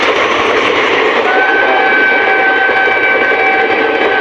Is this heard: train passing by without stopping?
yes